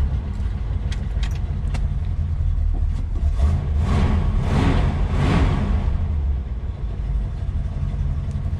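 A small engine fitted with quiet mufflers runs steadily and close by, a low, muted drone that swells slightly midway without any loud revving, with no talking over it.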